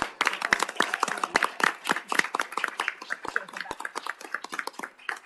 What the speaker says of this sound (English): let's one more time have a hand of applause for it